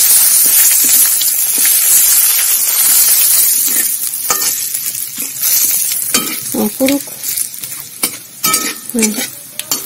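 Whole spices such as cinnamon, cloves and five-spice, with bay leaf, sizzle loudly in hot oil for a winter-vegetable khichuri. A steady hiss runs throughout, broken by scraping stirs and clinks against the pot that grow busier toward the end.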